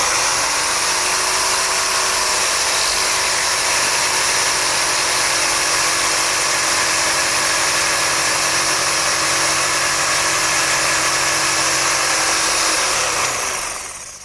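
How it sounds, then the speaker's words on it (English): Jigsaw cutting notches into wood stock for step stool rails, a continuous high buzzing whine that runs steadily at close range and winds down at the end. "I'll make those notches for my rails starting with my jigsaw"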